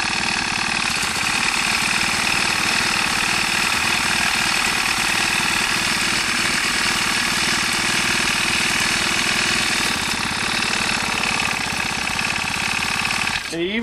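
Four-stroke engine on a motorized pedal bicycle runs steadily and loud up close, a constant buzzing drone that cuts off abruptly at the end, with people talking over it.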